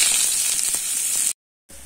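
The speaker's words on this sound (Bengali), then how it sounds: "কড়াইতে আমি এখানে সাদা তেল দিয়ে দিচ্ছি। এবার আমি পেঁয়াজটা দিয়ে দেবো।" Chopped onion frying in white oil in a wok, a bright close hiss and sizzle for over a second, then a brief silence before a quieter sizzle resumes.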